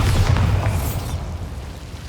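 A Bombarda spell detonating in the game Hogwarts Legacy, a loud deep boom with a brief rushing burst that fades into rumbling debris.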